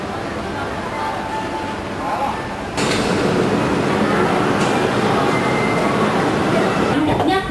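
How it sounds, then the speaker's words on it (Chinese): An ocean train at a Hong Kong station departs with a loud, steady rail rumble that swells sharply partway through, under a voice announcement. "海洋列车就要出发了，请紧握扶手。"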